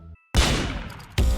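Gunshots in the Roblox game Murder Mystery 2: two loud, sharp reports after a brief silence, the first ringing out with a long decaying tail before the second cracks close by.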